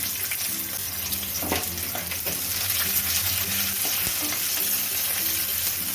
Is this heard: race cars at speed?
no